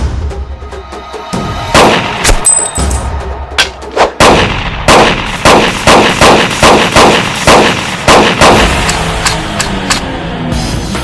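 Heavy gunfire from a Bhojpuri action film scene cracks close and loud, beginning with scattered shots and building into rapid, evenly spaced bursts that fill the scene.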